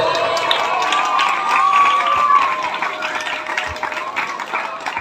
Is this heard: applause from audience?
yes